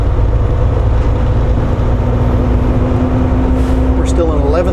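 Volvo truck diesel engine pulling under gentle acceleration at highway speed, a steady loud low drone with a constant tonal hum, a voice talking over it throughout.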